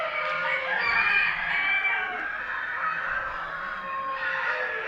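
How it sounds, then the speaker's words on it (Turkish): Roosters crow over and over among a dense, continuous chorus of fowl at an ornamental chicken show in Afyon, Turkey. The calls overlap loudly and close by throughout, with clucking mixed in and no talk. "horozları da göstereyim."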